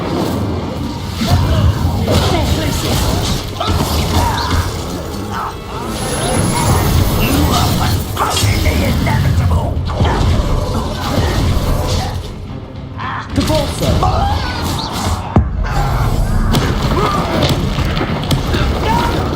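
Spell effects in the video game Hogwarts Legacy, fire and ice casts, burst as loud booms, crashes and whooshes in a dense, continuous battle mix with game music and voices.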